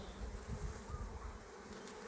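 Honey bees buzz steadily around an open beehive as its combs are cut and remodeled, a dense, continuous hum close by and fairly quiet, with no voices.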